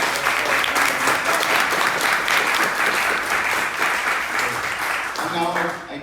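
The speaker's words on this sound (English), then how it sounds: "please, an applause for Philippe" Loud, sustained audience applause at a conference closing ceremony, many hands clapping steadily before the sound thins out near the end, with a voice briefly emerging as it fades.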